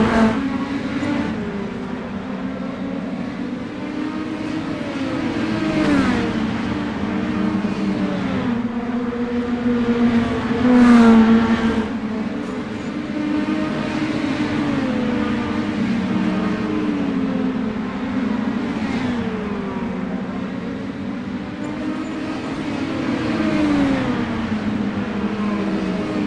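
Mini stock race cars accelerate around a track, engines droning loudly and steadily with rising and falling pitch as the pack runs close together.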